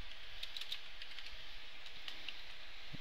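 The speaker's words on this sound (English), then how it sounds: "we'll type in my text dot add event listener" Light, scattered keystrokes tapped on a computer keyboard while entering code in a Flash actions panel, faint and sparse over a steady background hiss, with no talking.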